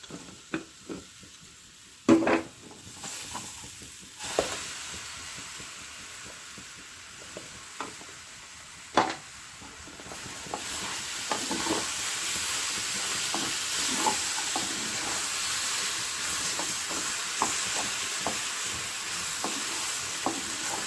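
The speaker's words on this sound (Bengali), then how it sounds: "সবজিটা মোটামুটি রোস্টেড হয়েছে। আমি এবার এই পেস্টটা ঢেলে দেবো এর মধ্যে।" Spice paste hits roasting vegetables in an oil-free pan, and after a few knocks and clatters a rising, steady sizzle and steam hiss builds, with occasional stirring scrapes throughout.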